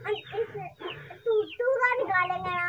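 Hen clucking in short, uneven bursts close by, with a voice and other talk mixed in over a farmyard background.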